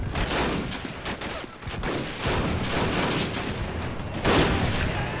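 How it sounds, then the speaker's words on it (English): Battlefield gunfire in the Men of War: Assault Squad 2 video game during a US Marine beach landing at Saipan, 1944, with an anti-tank rifle firing. A dense, continuous roar of shots and booms runs throughout, loud and unbroken, with no clear single report standing out. "Must be an AT rifle of some sort firing."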